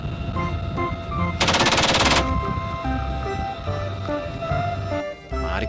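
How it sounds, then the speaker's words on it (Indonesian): A rapid, buzzy burst of toy machine gun fire lasting under a second, rising over background music with electronic tones. "ternyata ini mesin gun"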